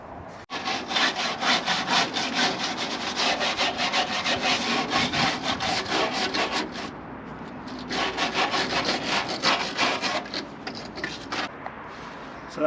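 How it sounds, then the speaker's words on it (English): A vintage motorhome bumper is sanded down by hand with long, rhythmic abrasive strokes, up close and loud, with a short pause before the strokes start again. "So that's it, the bumper's all sanded down as good as we can get it"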